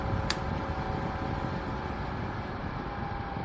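USB-C rechargeable brushless fan blowing air: a steady, even whoosh of blades moving air, close and constant, with a brief click at the start.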